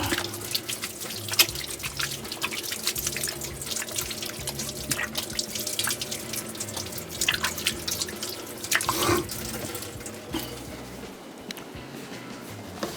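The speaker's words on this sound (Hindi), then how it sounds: "हाथ धो लेते हैं पहले।" Hands wash under a running kitchen tap, water splashing and dripping into a sink at close range for a sustained stretch, with irregular splashes and brief louder bursts and no voices.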